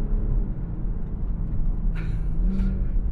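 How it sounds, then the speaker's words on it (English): A BMW M440i xDrive Gran Coupe, a 382 hp car with M Sport brakes, holds a loud, steady high-revving engine drone for a few seconds, with brief higher whooshes near the end. "You can hear it holding on to those revs."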